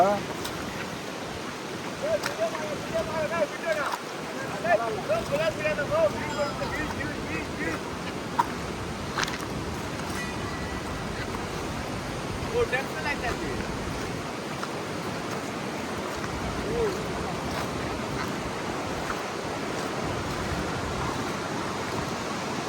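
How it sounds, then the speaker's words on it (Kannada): The Netravati river runs full in spate, a broad, steady rushing wash heard continuously at moderate level, with a few faint voices and bird chirps over it. "ನೇತ್ರಾವತಿ ನದಿಯು ತುಂಬಿ ಹರಿಯುತ್ತಿದೆ"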